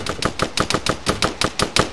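Rapid video game gunfire: a fast, even string of about a dozen sharp, close cracks in under two seconds, like machine gun fire, loud and with no talk over it.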